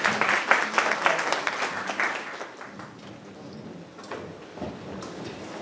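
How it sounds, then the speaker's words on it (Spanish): Audience at a university psychology week film-debate event applauds the guests, clapping strongly at first and then thinning into scattered, fading claps. "Les voy a pedir un fuerte aplauso para ellos."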